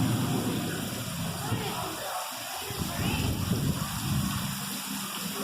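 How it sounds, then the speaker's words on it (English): Simulated rain falling in an indoor rainforest exhibit, a steady wash of pattering water, with a voice and other people talking quietly around it. "Look, Mommy, it's raining again."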